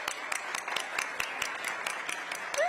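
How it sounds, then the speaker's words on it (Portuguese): An audience at a live debate event claps in a steady rhythmic beat, moderately loud and continuous for a few seconds, with no voices over it. "Palmas para ele."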